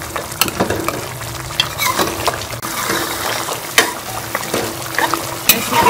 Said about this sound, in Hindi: काली मिर्च का पाउडर डाल के इसको अच्छी तरह से भून लेंगे